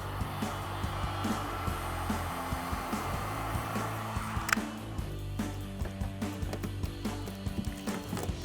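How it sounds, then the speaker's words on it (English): A heat gun blows a steady airy whoosh while it warms the adhesive on a Jeep Gladiator JT tailgate panel. Partway through, a sharp knock cuts in, and the blowing is followed by faint scattered clicks and handling noises. "you just want to make sure you're moving around with the heat gun, not keeping it in one spot for too long"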